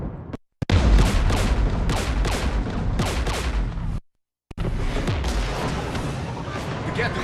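Mass Effect 3 video game firefight against the Geth near a jamming tower with anti-aircraft guns: loud, continuous rattling gunfire and booming artillery bursts, cut by two brief silent gaps.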